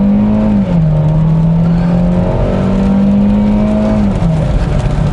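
A 2018 Kia Rio with a 1.6-liter engine accelerates at full throttle, its strained engine drone steady and loud from inside the cabin, dipping briefly at a shift near the start and again toward the end.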